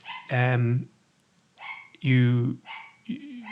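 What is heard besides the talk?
dog barking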